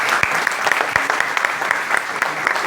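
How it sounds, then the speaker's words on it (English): Seminar audience applauding at the close of a talk on energy for irrigation: steady, dense clapping from a room of listeners throughout, fairly loud and close, with a few sharper individual claps standing out. "let us give a big round of applause"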